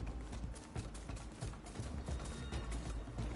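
A ridden horse in Horizon Forbidden West clip-clops steadily, its hoofbeats a quick, even rhythm that continues at a moderate distance over low game ambience.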